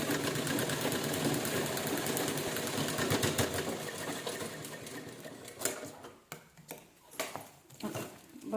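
A sewing machine stitches folded blouse fabric scraps for a rag doormat, a fast steady mechanical whirr that runs loud and continuous before breaking into short bursts and pauses near the end.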